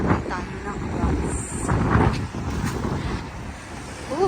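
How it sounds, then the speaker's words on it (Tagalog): Strong wind buffeting a handheld microphone outdoors at a street crossing near a bus stop in Canada, a loud continuous rumbling roar with gusts rising and falling, and a faint voice briefly at the end. "Masyadong mahangin."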